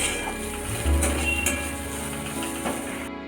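Sliced green chillies fry in a pan for mung dal with spinach, a steady close sizzle with faint scraping and a low rumble under it, ending abruptly.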